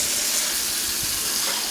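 Water gushes steadily from a tap into a container for a chicken marinade, a close, continuous hissing rush with no pauses.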